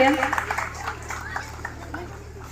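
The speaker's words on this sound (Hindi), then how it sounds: "जोरदार तालियां हो जाए, प्लीज तालियां बजाते रहिए।" An audience claps at a girls' college prize-giving and cultural programme, a fairly faint patter of many hands under a loud announcer's voice that fades as the talk continues.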